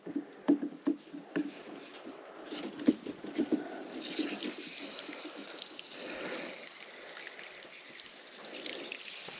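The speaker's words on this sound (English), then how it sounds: "A little water in the line." Water flows through a newly laid 200-foot waterline as a Bobcat E60 digs, giving irregular gurgles and splashy bursts that settle into a steadier rushing trickle.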